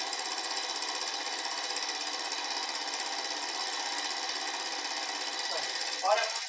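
Stirling engine running, a rapid, even mechanical knocking and buzzing that stays steady and moderately loud throughout, with a brief rising squeak near the end.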